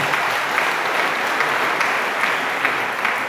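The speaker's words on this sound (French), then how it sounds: "Est-ce qu'on peut applaudir?" Applause from an audience at a mayor's speech during the Gayant festival in Douai, 2023, steady dense clapping filling the whole stretch at a fairly loud level, with no voices over it.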